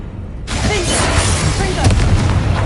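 A Bombarda spell explosion in Hogwarts Legacy starts abruptly with a loud, close boom and rolls into a sustained rumbling blast with debris crackle, with a voice mixed in.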